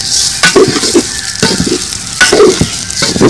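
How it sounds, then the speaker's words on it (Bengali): Washed rice is stir-fried with browned onions in a pan for chicken biryani: loud, close scraping strokes of a spoon in rhythmic bursts over a sizzling hiss. "চালগুলো 2 মিনিট একটু ভেজে নিব"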